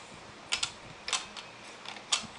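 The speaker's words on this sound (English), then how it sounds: "Let me go ahead and put the bobbin in." A bobbin clicking into place in a Singer 2517 sewing machine, heard as a few soft, close mechanical clicks and taps spread over a couple of seconds.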